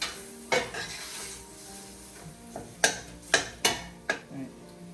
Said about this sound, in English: I'm going to give this a little stir.